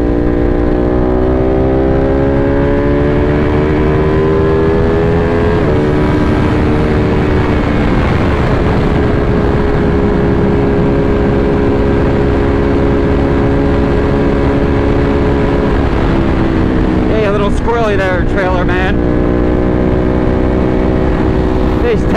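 A motorcycle cruising at highway speed of over 100 mph, captured by a helmet-mounted microphone: steady loud engine drone with heavy wind rush, shifting pitch partway through.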